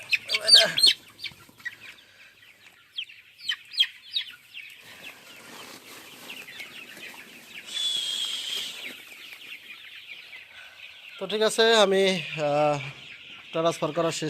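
Chickens cluck and squawk in a crowded poultry farm shed as birds are moved between sheds. Scattered clucks and rustling build to a louder flurry of overlapping calls near the end.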